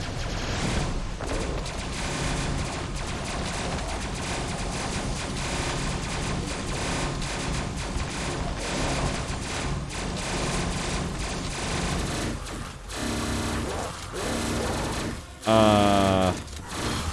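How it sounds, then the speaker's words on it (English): Gauss assault rifle fire in the top-down shooter Tesla Force rattles on in steady rapid bursts for most of the stretch, then breaks off into scattered effects and a brief bright tonal chime near the end. "Gauss assault rifle."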